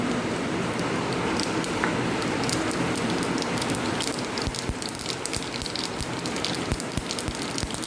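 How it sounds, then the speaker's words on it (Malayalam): Steady, dense rain pours down continuously, a broad hissing wash with scattered closer drips and pattering on a surface. "നല്ല മഴ പെയ്യുന്നുണ്ട്"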